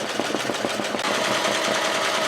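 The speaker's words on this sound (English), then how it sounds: "I'm going to go ahead and let this continue stitching" A sewing machine stitches a sunflower tote bag in a fast, steady mechanical chatter, loud and close, with a clear rhythmic pulse at first that then blurs into a continuous whir.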